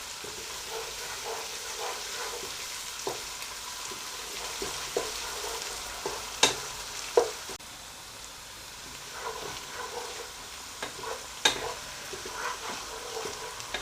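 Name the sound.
frying dal mash in a pan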